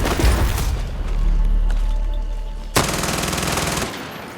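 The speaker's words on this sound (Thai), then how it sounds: "ยิงซ้ำแม่งเลย" Gunfire in the video game Far Cry 6: dense automatic bursts roar through the first seconds, then a sharp loud shot at about 2.8 s launches another sustained rattling volley, loud and close, with no talking.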